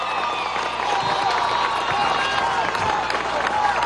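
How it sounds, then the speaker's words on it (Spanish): A crowd at an outdoor anti-imperialist political march applauds and cheers, a dense, steady roar of clapping and voices with a loudspeaker voice heard over it. "Un aplauso al vicepresidente Tarek El Aissami."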